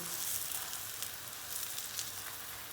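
Börek pastry sizzling and crackling in hot oil in a pan, a steady close-up frying hiss with small pops.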